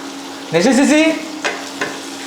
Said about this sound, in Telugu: మనం తరిగి పెట్టుకున్న ఉల్లిపాయలు ఉన్నాయి కదా అవన్నీ దోరగా బ్రౌన్ కలర్ వచ్చేదాకా వేపుకోవాలన్నమాట